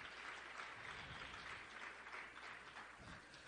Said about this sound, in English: Give Mary Gay Scanlon, Madeline Dean, Dwight Evans, Brendan Boyle a huge round of applause